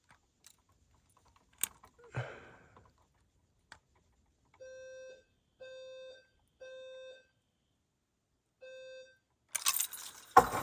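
A Notifier NFS-320C addressable fire alarm system beeping as keys short out the monitor module terminals: faint scraping and clicks, then four short, even, tonal beeps, followed by a louder burst of noise at the end.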